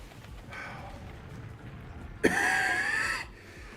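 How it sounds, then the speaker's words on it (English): A single harsh, rasping cough close to the microphone, preceded by a quieter throat sound against a faint background hiss. "Excuse me, I'm sorry for coughing."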